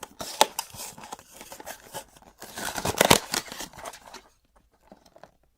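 A tear strip pulled open on a blind box, a close crackly ripping of paper and cardboard in bursts over about four seconds, then quiet.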